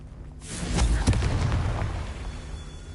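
A Confringo spell blast in the Hogwarts Legacy video game: a loud, deep explosive boom bursting in around half a second, followed by a rumbling crackle that slowly fades over the next two seconds, with no voices.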